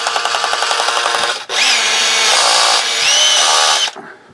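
A hammer drill runs loud and close in bursts, first with a rapid pulsing hammer action and then a steady high whine, before spinning down.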